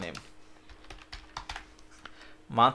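A computer keyboard clatters with quick, close keystrokes as code is typed, a steady patter of clicks with a voice speaking briefly at the end.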